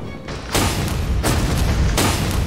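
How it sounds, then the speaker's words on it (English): In the Bloodstained video game, a cannon that launches monkeys fires in a run of heavy booming blasts, each a loud, broad, sudden thud followed by sustained rumbling. "that's a cannon that launches monkeys"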